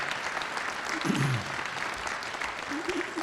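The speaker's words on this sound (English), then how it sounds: "Give them an applause for they put up with me for all these years" An audience applauds a speaker's family at an acceptance speech, steady clapping filling the room for the whole stretch, with a few voices murmuring underneath.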